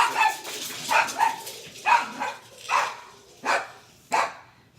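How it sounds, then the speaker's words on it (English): Dogs bark nearby in a series of about eight sharp, moderately loud barks at uneven intervals, some in quick pairs, with no talking over them. "Oh, dogs."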